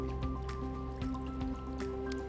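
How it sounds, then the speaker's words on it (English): A fabric dance costume is rinsed in plain water, giving close squishing, dripping and trickling sounds over a steady low hum. "After you're done scrubbing, gently rinse it in just plain water."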